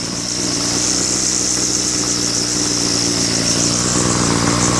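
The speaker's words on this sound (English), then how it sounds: "Got it tuned up really nice now. Idles well." A freshly tuned Homelite Mighty Lite 26CS curved-shaft weed trimmer idles steadily with its small two-stroke engine. The buzzing putter is loud and close and keeps an even pace throughout, with no voices.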